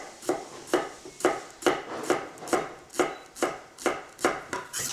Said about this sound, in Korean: 대파를 조금만, 쪽파 있으면 쪽파 썰어 넣고